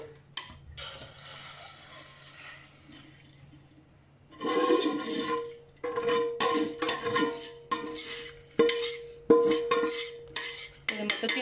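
Homemade virgin coconut oil strained through a filter into a vessel, heard as a faint trickle that gives way to a series of metal pot and utensil clanks and scrapes, with a steady low hum underneath.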